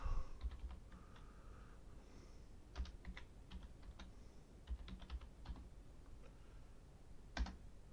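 Someone types in Microsoft Word on a computer keyboard, the close key clicks coming in short irregular bursts separated by pauses, with no talking.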